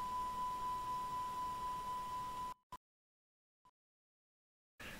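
Master alarm in an A32NX (Airbus A320neo) flight simulator cockpit: a steady single-pitch tone holds for about two and a half seconds, cuts off, and leaves near silence broken by two brief blips before background noise returns.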